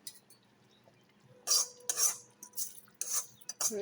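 A pot of Kollam-style stingray curry made with roasted coconut is swirled by hand without a ladle, giving several short metallic scrapes and clinks in bursts, fairly close and with no talk.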